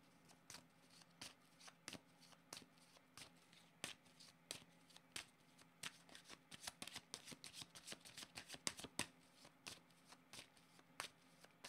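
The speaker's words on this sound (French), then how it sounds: "Attendez, je vais changer de jeu de cartes." A new deck of tarot cards being shuffled by hand, a long run of crisp riffling and snapping bursts close up, growing busier and denser toward the end, with no talking.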